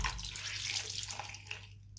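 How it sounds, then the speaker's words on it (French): Lukewarm water runs and splashes softly while skin is rinsed, a quiet steady trickle with small drips near the end, no talking. "Là, pareil, on rince à l'eau tiède."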